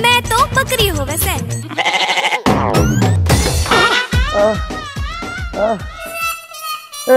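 A human voice mimics a goat's bleat in a Hindi village comedy sketch, giving loud, wavering, nasal cries close to the microphone in a continuous run of overlapping calls.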